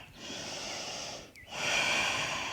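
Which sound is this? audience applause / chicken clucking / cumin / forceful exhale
forceful exhale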